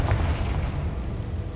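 A Confringo fire spell bursts in the Hogwarts Legacy video game, a short low booming blast with a rumbling tail, moderately loud and heard alone.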